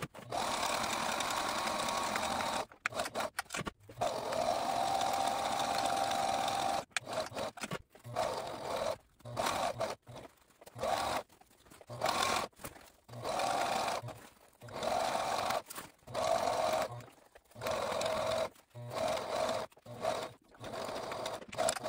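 A sewing machine stitches a double hem on a boat bunk lee cloth in quick bursts of fast mechanical whirring, with short pauses between runs and a faint hum underneath.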